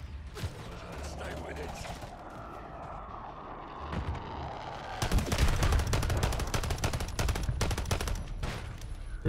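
Turret gunfire in Modern Warfare 3 video game, a dense rapid stream of loud shots breaking in midway after quieter rumbling and mechanical noise.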